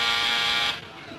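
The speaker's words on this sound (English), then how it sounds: "The buzzer under the table that we always use to call the butler and the maid." A table buzzer for summoning the butler and maid gives one loud, harsh electric buzz lasting most of a second, then cuts off into quiet room tone.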